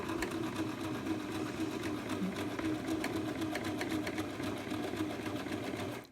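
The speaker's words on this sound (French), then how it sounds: "Je vais réaliser les points arrière et on peut reprendre la couture avant." A sewing machine backstitches across the fabric of a handmade basket, running as a steady, close, continuous mechanical whir with a fast needle rhythm for the whole stretch, then stopping at the end.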